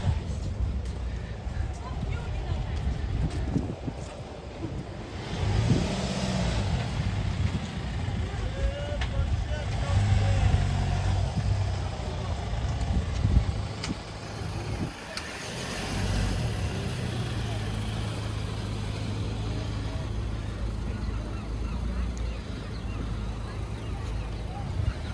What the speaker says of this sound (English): He's refusing to back up. So he's got all the traffic ahead.